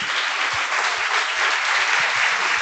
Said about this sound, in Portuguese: Vamos aplaudir a Jesus Cristo.